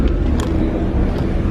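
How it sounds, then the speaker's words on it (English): An Acura NSX pulls up close by, its engine producing a loud, steady low rumble over the short moment. "Got the NSX pulling up right now"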